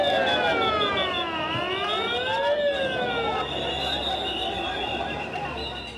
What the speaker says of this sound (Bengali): সাইরেন বাজিয়ে লাশবাহী অ্যাম্বুলেন্স জরুরি বিভাগে ঢোকার সঙ্গে সঙ্গে